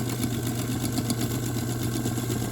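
A sewing machine runs continuously while stitching fabric off the edge of a faux tie-dye quilted piece, a steady close motor hum with a fast, even needle rhythm and no pauses.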